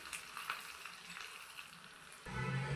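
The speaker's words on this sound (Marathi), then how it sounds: "यात घेतलेला कढीपत्ता व काश्मीरी मिरची घालू व हे देखील थोडंसं तळून घेऊ" Curry leaves and Kashmiri chillies fry in hot oil for a tadka after golden-brown garlic, giving a close, crackling sizzle with spitting pops that swells into a louder, fuller hiss near the end.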